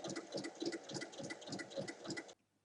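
A sewing machine stitching along the seam of a fabric bag, a steady rapid mechanical whirring with rhythmic needle pulses, moderately close, stopping abruptly near the end.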